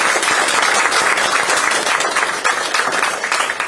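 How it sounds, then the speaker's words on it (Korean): Applause from an audience at a political party leadership meeting, a dense steady wash of clapping filling the whole stretch at high level with no voices over it. "큰 박수 좀 부탁을 드립니다"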